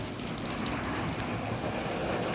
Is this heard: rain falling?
yes